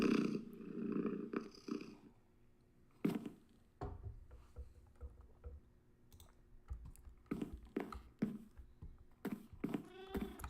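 A Minecraft cat purrs softly in a low rumbling stretch, followed by scattered clicks and taps of game input, faint and close.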